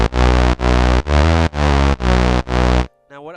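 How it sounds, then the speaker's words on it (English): A distorted synth bass in the style of Yakuza game music pulses in six loud, buzzing sustained notes with short gaps, heard alone and close, followed by a brief quieter tail. "there is this bass that you can hear in the background that essentially sounds like this"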